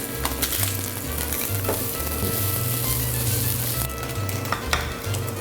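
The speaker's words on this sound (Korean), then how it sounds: "햄을 노릇노릇하게 구우면 될 것 같습니다" Ham frying in an oiled pan until golden, a steady close sizzle and crackle with a few clinks and stirring sounds, with no talking.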